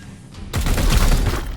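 A burst of gunfire erupts in the Chaos Gate - Daemonhunters video game, loud and booming after a quiet moment and rattling on in a heavy volley.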